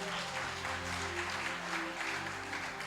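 A church congregation at a Sunday service applauds, producing a steady, even wash of clapping that holds at moderate volume under a low, sustained musical drone.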